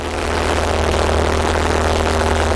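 A yellow biplane's engine runs up to takeoff power, a loud, steady, close droning roar with a low throbbing hum that holds constant.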